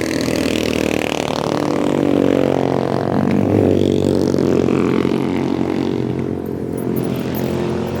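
Steady, loud engine drone of motorcycles on a highway near Toledo, Philippines, rising and falling in pitch as they pass close by, continuous throughout with no talking.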